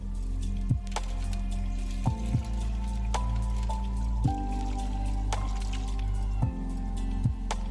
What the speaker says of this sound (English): So again and again, we will add nitric acid and filter it the same way